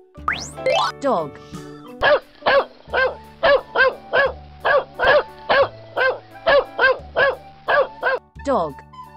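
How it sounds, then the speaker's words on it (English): A dog barks in a fast, steady run of about fourteen short, sharp barks, close and loud, after a brief rising chime at the start. "Dog. Dog. Dog."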